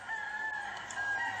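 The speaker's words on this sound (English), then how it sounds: "So if you hear rooster in the background," A rooster crows in a rural neighbourhood where people keep animals, a single clear, drawn-out call at moderate distance, with no talking.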